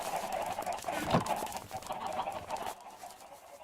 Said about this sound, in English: Maybe putting that many chickens in there wasn't, strictly necessary.